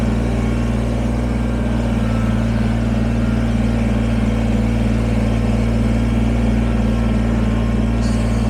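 A Kubota BX23S sub-compact tractor engine runs at a steady, loud drone while back blading dirt, holding an even pitch close by with no talking.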